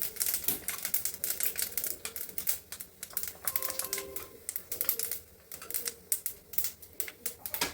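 Mustard seeds splutter in tempering oil with dense, rapid popping and crackling that keeps going throughout, close and fairly loud. No one speaks.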